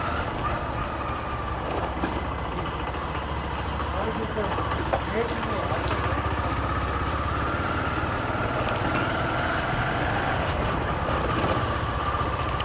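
Motorcycle engine running steadily while riding through a street, a continuous loud drone with broadband road noise and slight pitch changes as gears shift, no clear pauses across the stretch.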